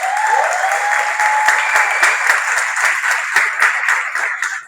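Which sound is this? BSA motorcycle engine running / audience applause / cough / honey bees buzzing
audience applause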